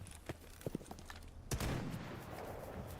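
Gunfire in the shooter S.T.A.L.K.E.R. GAMMA, a few quiet sharp shots early on followed by a louder burst of firing with a rumbling tail.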